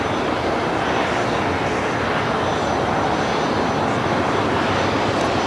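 Heavy jet airliners arriving at LAX near the Tom Bradley terminal, a broad, steady engine roar that holds level for the whole stretch without fading; no talking.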